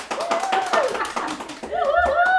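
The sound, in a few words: clapping applause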